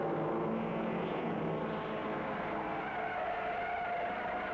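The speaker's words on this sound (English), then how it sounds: "Hans Rusch slides his Ferrari" Hans Rusch's Ferrari race car sliding through a 1950s street race around Douglas: a steady, dense roar of engine and scrubbing tyres, fairly loud and unbroken throughout.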